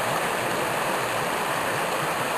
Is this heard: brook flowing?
yes